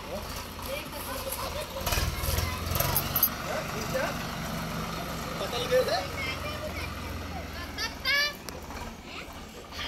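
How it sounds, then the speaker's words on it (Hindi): A tractor ploughs a field where sugarcane had been grown, its engine rumbling and droning steadily in the background while people talk over it and a few short sharp sounds stand out. "यहाँ खेत की जुताई होने लग गई ट्रैक्टर से।"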